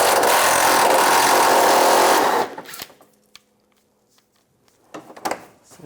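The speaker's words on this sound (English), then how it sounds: "Using a 10mm socket, take these bolts out" A power ratchet or drill with a 10mm socket removes bolts from the front bumper of a 2004-2009 Toyota Prius, whirring loudly for about two seconds, followed by faint clinks and handling sounds.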